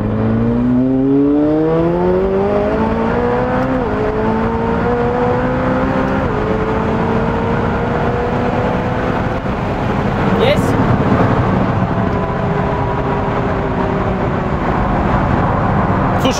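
A 1000 hp rear-wheel-drive McLaren 720S street car with two people aboard accelerates hard, its loud engine note climbing steadily through the gears up close, with a continuous roar and rumble throughout.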